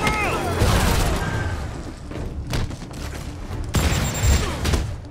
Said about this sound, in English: Barely evaded that rocket.